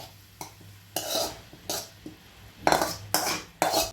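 Dill leaf palya with dal is stirred and fried in a pan: a utensil scrapes and clanks against the metal in irregular strokes over a faint background sizzle.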